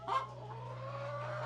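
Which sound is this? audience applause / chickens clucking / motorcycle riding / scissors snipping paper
chickens clucking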